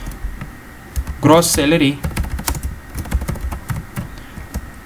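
Rapid computer keyboard typing of C printf code, a steady run of light clicks through the clip, while someone speaks Hindi briefly over the keys near the start.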